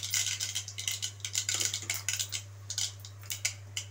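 Mustard seeds spluttering in hot oil for a Tamil herbal rasam, a steady run of quick bright pops and crackles close by over a low constant hum.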